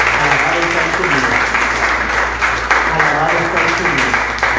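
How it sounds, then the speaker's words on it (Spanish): A church congregation claps together in praise of the Lord, loud and continuous, with voices mixed into the applause. "Dale un aplauso al Señor por eso."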